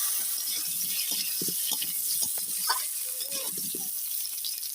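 Pieces of elephant foot yam go into hot oil with cumin seeds in a wok, producing a continuous bright sizzle with scattered crackles and clicks at close range, with no talking.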